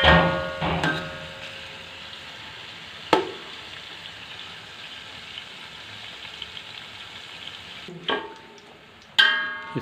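Soft, continuous sizzling of a large chopped onion frying in oil for vegetable pulao, with a few sharp clinks and stirring knocks scattered through.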